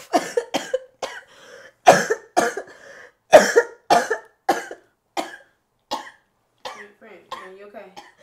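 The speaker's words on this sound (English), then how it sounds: "I got a cough." A series of sharp, repeated coughs, close and loud, coming in irregular bursts over several seconds.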